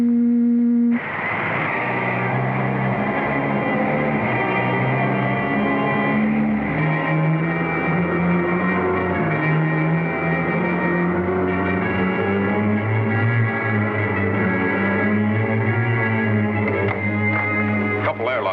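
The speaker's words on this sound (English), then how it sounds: "Tractor beam up, sir." A 1954 sci-fi serial's spaceship tractor beam hums as a sustained electronic drone with wavering tones, loud and continuous throughout, with no speech over it.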